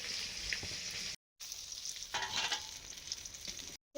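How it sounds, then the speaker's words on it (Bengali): Marinated fish coated in turmeric, chili and mustard oil fries in a pan with a steady close sizzle, broken by two brief silent gaps, and a louder crackling burst midway. "ভালো করে মাখিয়ে নিয়েছি, এবার ভাজবো।"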